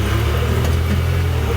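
A Honda Pioneer 1000 UTV engine in sport mode runs at high revs with a dense, steady low drone and a rough mechanical roar, close and loud throughout.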